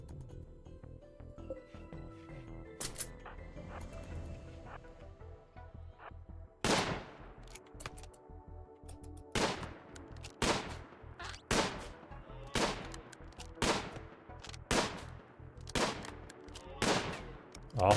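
Gunshots from the colony sim game RimWorld: a steady run of sharp, evenly spaced reports, about one per second, loud and close, following a quieter stretch of game sounds.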